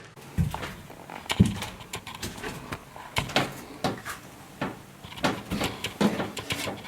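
Cabinet doors in a truck camper build being handled and hung with hardware, a series of sharp wooden knocks and clacks spaced irregularly, close by and fairly quiet, with no talking.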